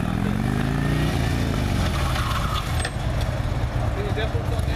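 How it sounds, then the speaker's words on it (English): Motorcycle without ABS threshold braking, combining maximum front and rear brakes; a loud, close engine drone with low rumbling that shifts in pitch as the bike slows, steady throughout. "Threshold braking, and that is maximum rear and maximum front braking used in conjunction."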